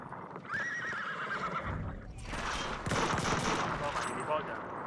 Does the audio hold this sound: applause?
no